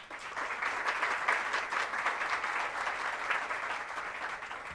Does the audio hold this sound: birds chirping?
no